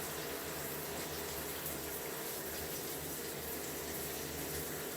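Hair getting a final rinse under running water, a steady, even rush and splash from a tap that stays constant and fairly soft throughout, with no talk.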